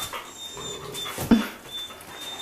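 A Great Dane whimpers and pants close by in a farmhouse, with soft breathy whines building to one brief, louder yelp midway before settling back into quiet panting.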